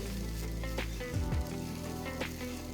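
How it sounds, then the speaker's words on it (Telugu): Grated coconut and four dried red chillies lightly roasting in a pan for a rasam spice mix, giving a soft steady sizzle with a few brief scraping stirs partway through. "అర కప్ తురిమిన కొబ్బరి నాలుగు ఎండుమిరపకాయలు వేసి మరో నిమిషం పాటు వేయించుకోవాలి"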